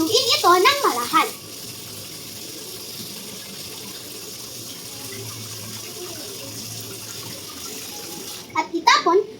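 Water running from a tap into a pot of rice being washed for cooking, a steady, moderately loud rush that fills most of the stretch, with someone talking briefly at the start and the end.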